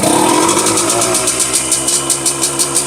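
Yamaha RXZ two-stroke motorcycle, long unused and for sale, starting up and revving: a loud, close, buzzy engine note that climbs at first, then settles into a steady rattling run.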